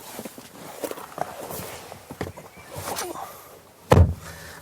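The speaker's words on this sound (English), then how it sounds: "Still, the rear door opens decently wide." Rear door of an Alfa Romeo Giulia sedan, a single solid thunk near the end, preceded by soft footsteps and light handling noises.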